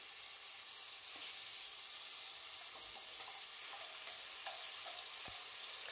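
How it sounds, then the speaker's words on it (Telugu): Ground onion and coriander paste frying in oil on a low flame, a faint steady sizzle and hiss with a few soft stirring taps, no voices. "సిమ్లోనే పెట్టుకొని ఫ్రై చేసుకోండి."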